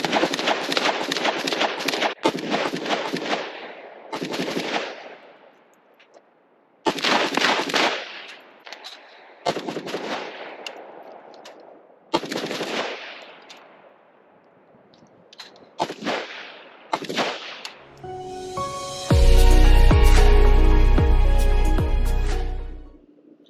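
A Palmetto State Armory PSAK-47 GF5-E AK rifle firing: loud single shots and quick strings of shots with short pauses between them, ending in a dense, sustained roar of rapid fire.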